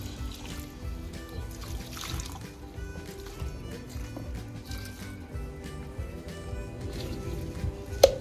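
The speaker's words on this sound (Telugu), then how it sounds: "ఫైనల్గా మనం వాటర్ పోసుకుందాం." Water is poured steadily onto jasmine, rose and other flowering garden plants, giving a continuous soft trickle and splash at moderate volume for several seconds.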